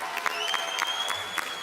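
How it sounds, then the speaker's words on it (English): An audience at an Oxford House 50th anniversary event claps in a brief, moderately loud burst of applause with a few distinct hand claps standing out. "we need to give our forefathers a round of applause as well"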